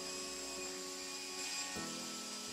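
A Hirobo S.R.B Quark micro RC helicopter lifts off and flies, producing a faint, steady high-pitched electric motor whine with a rotor buzz that briefly shifts pitch near the end.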